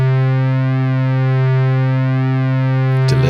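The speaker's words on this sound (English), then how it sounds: "The enhanced waveform, not available on the Wasp, is actually a pulse width modulated square." Pulse width modulated square waveform from a vintage Gnat Special synthesizer, a loud sustained buzzy tone with a rich harmonic stack, held steadily and cut off abruptly near the end.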